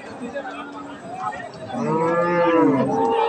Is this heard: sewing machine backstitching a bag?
no